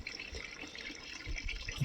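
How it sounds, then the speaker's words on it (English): Water gushes steadily from pipes pushed into a dug-out hillside, a continuous close-up rushing and splashing with no talk. "See, the water is flowing really well."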